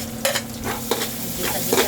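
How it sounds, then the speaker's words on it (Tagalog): Onion hitting browned garlic in a pan for Filipino pancit palabok, sizzling steadily close up with a spoon stirring and scraping in short repeated strokes. "Ihulog natin ng sibuyas."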